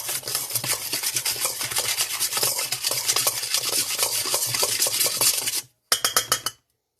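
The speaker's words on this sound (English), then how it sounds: "Just stir this around." A spoon stirs roasted vegetables in a pan or dish, giving continuous close scraping and rubbing strokes in a quick rhythm, then a short pause and a few final scrapes before silence.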